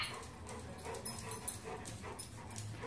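A dog whimpers faintly with soft, brief whines repeating irregularly over quiet background noise.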